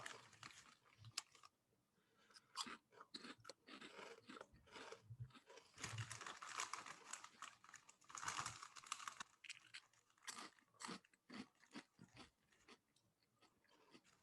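Doritos 3D corn snack chips crunched close up with sharp, irregular bursts of crisp chewing and biting. A quiet, faint scene with no talk.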